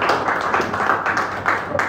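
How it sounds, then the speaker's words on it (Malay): Classmates in a classroom clap together for a pupil, a dense, close burst of hand claps lasting about two seconds with faint voices mixed in. "Tepuk tangan untuk Fahim."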